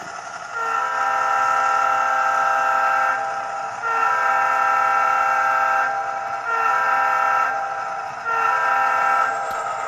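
A diesel locomotive horn from an ESU LokSound decoder in a model SD80MAC locomotive sounds in several long, loud blasts separated by short breaks, with a steady rumble underneath.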